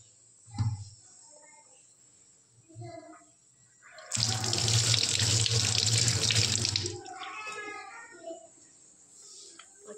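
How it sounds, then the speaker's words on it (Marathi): Eggplants rinsed under a running kitchen tap: a loud, steady burst of water splashing into the sink for about three seconds, with quieter clinks and handling sounds before and after. "तर वांग मी नळाखाली फक्त आता"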